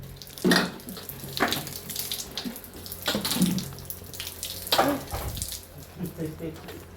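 Water pouring and splashing from a tap or container during a CCTV installation job in Kenya, in several loud bursts with voices talking over and between them.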